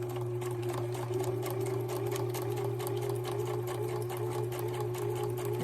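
Sewing machine stitching a zipper pocket into a traveler's notebook insert, a steady close mechanical whir with a fast even needle rhythm, running alone without pause.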